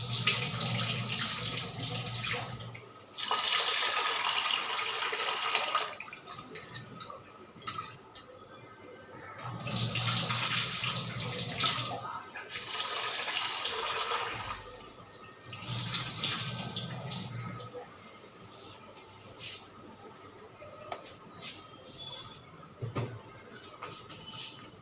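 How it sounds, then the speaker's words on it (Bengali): Rice washed by hand in a pot under a running kitchen tap, with bursts of gushing water alternating with quieter swishing and grain rubbing, plus occasional metal pot clinks, close and fairly loud, repeating several times. "চালটা ধুয়ে বসিয়ে দিই"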